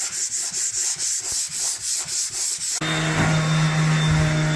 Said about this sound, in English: I am sanding